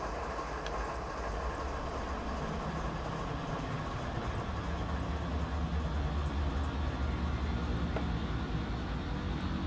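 A locomotive diesel engine running with RPMs up in the Train Simulator 2017 game on the Stevens Pass route, a steady low rumble and drone that holds at an even level throughout, with no talking.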